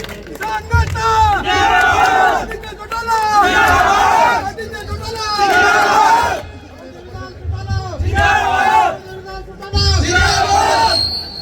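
A large crowd at an outdoor political rally cheers and chants in loud rolling surges, with raised shouting voices and a brief lull before the cheering swells again.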